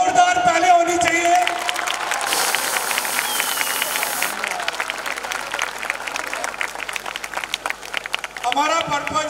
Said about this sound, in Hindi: हमारे इन सारे प्यारे प्यारे बच्चों के लिए जोरदार ताली होनी चाहिए।